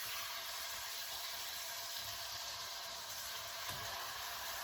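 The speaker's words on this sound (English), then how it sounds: "Let's get to browning our meat." Meat browning in a pan for steak Diane gives a steady, faint sizzle, an even broad hiss that stays constant with no talk.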